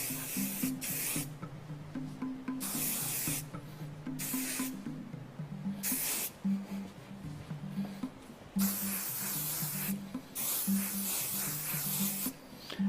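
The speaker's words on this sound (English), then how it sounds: "Now take your can of trusty hairspray and lightly spray" Short bursts of aerosol hairspray hiss on and off repeatedly, close and steady, with brief pauses between each spray.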